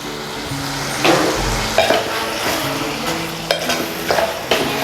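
Chicken sautéing in oil in a pan for chicken gravy, a close steady sizzle broken by several scraping stirs, with no talk.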